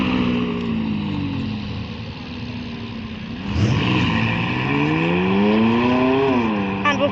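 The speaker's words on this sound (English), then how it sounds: "There goes the Austin. And here goes the McLaren." A McLaren sports car sweeps past outdoors, its engine note rising and falling as it approaches and fades, following another passing car amid a steady engine drone.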